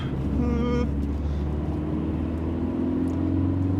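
A race car driving hard on a track, its engine holding a loud, steady droning whine close by, with a brief higher rising tone near the start.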